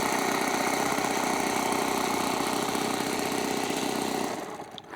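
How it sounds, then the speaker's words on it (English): A Waco biplane's multi-cylinder radial engine runs loudly and evenly with a steady throb for several seconds, then the sound drops off near the end. "Listen to that. It sounds like a multi-cylinder old something."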